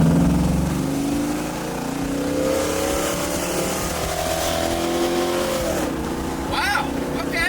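A 1969 Camaro with a stock 350 engine pulls hard in first gear, its engine note rising steadily in pitch as it accelerates, loud and close with road and wind noise.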